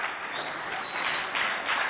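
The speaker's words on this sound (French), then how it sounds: "Sous vos applaudissements, s'il vous plaît." A school audience applauds a student arriving to recite his poem at a provincial event, a continuous wash of clapping with a faint whistle-like tone above it, moderately loud and steady throughout.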